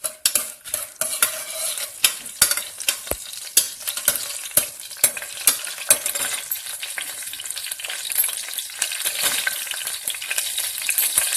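Tempering spices fry in two spoons of oil in a pan for raw mango rasam, a constant sizzle broken by sharp, repeated clinks of a spoon stirring against metal.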